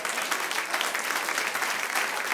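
A church congregation claps together during a Sunday service, a steady, dense patter of many hands filling the room without pause.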